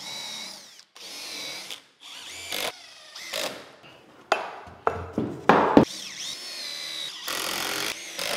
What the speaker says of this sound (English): What I did was I screwed the 2 halves together.